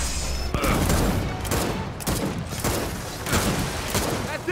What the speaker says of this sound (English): Using a pistol.